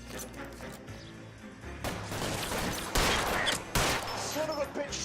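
A gunfight in the video game L.A. Noire, with rapid overlapping shots and sharp loud cracks under shouted in-game dialogue, growing denser midway through.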